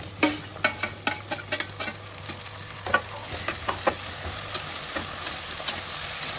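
Biryani ingredients roasting in a hot pan, a steady sizzle underneath sharp scraping clicks as a spatula stirs them again and again, with a low hum running through most of the clip.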